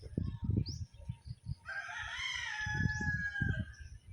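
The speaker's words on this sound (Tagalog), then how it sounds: "Manok." A rooster crows once, a clear rising and falling call that stands out over low, close talking in a Cebuano-speaking setting.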